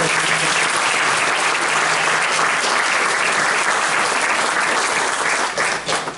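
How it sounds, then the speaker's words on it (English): Sustained, dense applause from an audience honoring retirees at a school board meeting, loud and continuous for several seconds before starting to thin out at the end. "one more round of applause for all the retirees"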